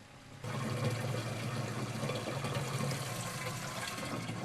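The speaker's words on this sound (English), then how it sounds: "태양광으로 충전한 배터리와 펌프, 여과기를 사용하면 아주 깨끗한 물을 얻을 수 있습니다." Water rushes steadily from a solar-battery-powered pump and filter at a forest well, a continuous loud flow that starts abruptly and stays even throughout.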